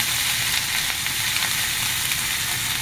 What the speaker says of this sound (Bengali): গরম তেলে জিরেগুলো যখন লাফালাফি করবে তার মাঝখানে আপনি এর মধ্যে আলুটা দিয়ে দেবেন